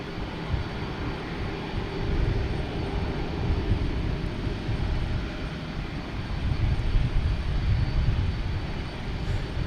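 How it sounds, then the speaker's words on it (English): A jet airliner just in from London Heathrow rolls along at Boston Logan Airport, its engine roar a steady, broad rumble that holds loud and even throughout with no one talking. "Here's the one that just landed from London Heathrow."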